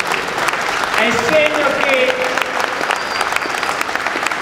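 Audience applause at an event marking an Italian prime minister's visit to a Bolzano steelworks, a dense, steady clapping wash filling the whole stretch with a voice speaking over it.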